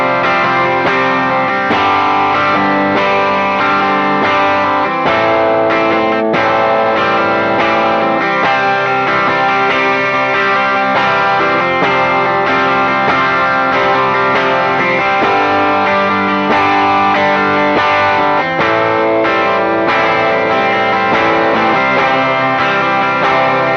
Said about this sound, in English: let's go over to the bridge pickup. This is humbucker,